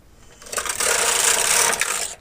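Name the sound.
knitting machine carriage knitting a row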